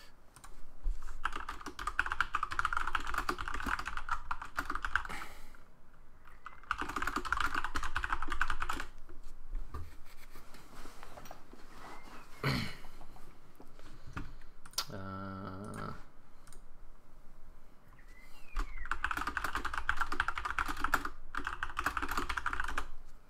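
Computer keys are typed in fairly quiet bursts of rapid clicking, separated by quieter stretches with an occasional single click, with no voices.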